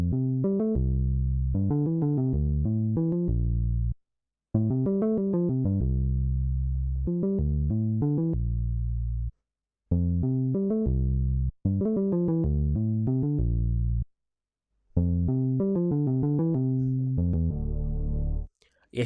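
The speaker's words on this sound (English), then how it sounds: "this sound was gotten from a plugin called M1, and the preset I'm using is called Boost Sub Bass" Synth sub-bass line from the M1 plugin's Boost Sub Bass preset, in a guitar-based Afrobeats beat: repeated phrases of deep, sustained notes with short gaps between them, steady and up front.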